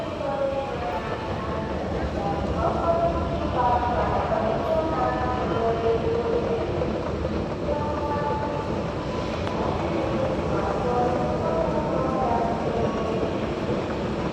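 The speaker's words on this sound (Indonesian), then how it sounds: "Ini kereta Jawa teman-teman." An Indonesian commuter train near Cikarang station, Bekasi, rumbles steadily from inside a carriage, with a continuous low roar and faint voices murmuring underneath.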